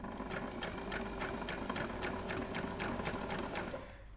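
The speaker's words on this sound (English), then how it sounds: "you're going to stitch all the way, trying to keep nice and close to those folded edges" A sewing machine stitches along the folded edges of a fabric strap, a fast, even mechanical clatter with regular needle ticks, close and continuous before easing off at the end.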